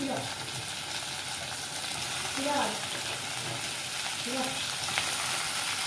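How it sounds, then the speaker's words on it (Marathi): Onion and tomato frying in oil in a pan, a continuous sizzle with occasional stirring scrapes from a spoon, moderately quiet and without talk. "कांदा थोडासा आपल्याला परतून घ्यायचा तेलामध्ये नरम करून घ्यायचा मग ह्याच्यामध्ये आपल्याला टमाटा टाकून घ्यायचा"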